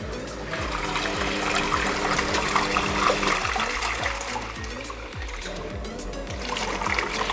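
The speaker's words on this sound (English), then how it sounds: "it spins and changes direction, so it alternates between the two to really like rub the clothes against each other" A washing machine agitates water and soap, its drum churning and reversing direction in a steady sloshing, trickling rhythm that stays close and continuous throughout.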